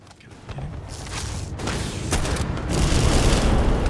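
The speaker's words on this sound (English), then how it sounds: "Sniper shot." A heavy sniper rifle shot in the Starfield video game booms amid a loud, dense barrage of gunfire and explosive rumble that builds louder toward the end.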